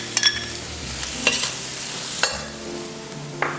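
Mixed vegetables stir-fried in a hot pan for Yang Chow fried rice: a steady sizzle broken by several sharp scraping stirs of a utensil against the pan, close and clear, with no voices.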